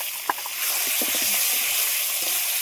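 Crab drops into hot spiced oil in a pan and breaks into loud, steady hissing sizzle that swells after a brief clatter and holds on, close and unbroken.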